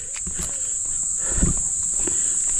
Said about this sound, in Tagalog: You know, kuliglig.